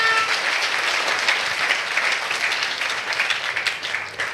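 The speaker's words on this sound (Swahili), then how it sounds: "I don't know why aren't you clapping your hands for Jesus" A church congregation claps steadily in a dense, even wash of many hands, fairly loud and sustained throughout, with no talk over it.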